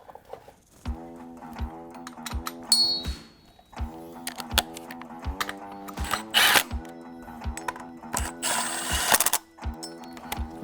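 Power tool tightening the pump during an LS engine swap on a 1957 Chevy Bel Air, running in repeated short whirring bursts, several rapid pulses each, with brief metallic clicks between them.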